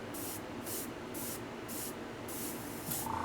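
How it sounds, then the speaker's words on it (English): Airbrush spraying paint for skin tones, steady hissing bursts in about six regular pulses close up, with a brief higher tone near the end. "You hear the airbrush?"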